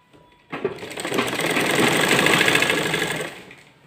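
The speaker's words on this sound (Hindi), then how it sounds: "अब इस तरह से इस साइड की सिलाई करेंगे।" An electric sewing machine runs in one continuous burst of rapid stitching along the side seam of a salwar, close and loud, speeding up then slowing to a stop.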